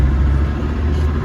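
A Land Rover Discovery TD5 diesel engine takes a light touch of throttle, a loud, steady low rumble heard close up from inside the vehicle, with no voices.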